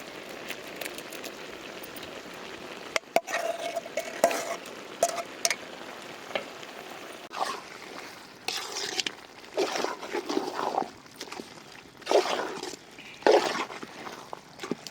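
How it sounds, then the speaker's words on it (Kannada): Ground masala paste goes into boti gojju simmering in a pan, a soft wet sizzle broken by irregular clatters and scrapes of a spoon. The sound is close and fairly quiet, with no voices. "ಈಗ ನಾವು ರುಬ್ಬಿಟ್ಕೊಂಡಿರುವಂತಹ ಮಸಾಲೆ ಹಾಕೊಳ್ಳೋಣ. ಮಸಾಲೆ ಹಾಕೊಳ್ತಾ ಇದ್ದೀನಿ."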